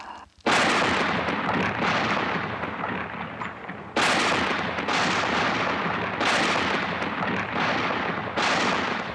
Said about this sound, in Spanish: si con hacer explotar la cocina no era suficiente, Akerman continuó experimentando